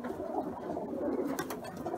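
Game pigeons cooing inside a coop in Ankara, a steady low murmuring coo from several birds close by, with a few brief higher rustles and calls near the end.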